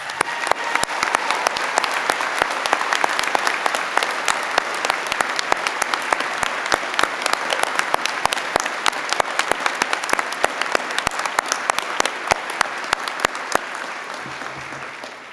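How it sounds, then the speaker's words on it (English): Sustained applause from a graduation ceremony audience, steady dense clapping throughout with no speech over it, easing slightly toward the end. "Let us give them a heartfelt round of applause right now."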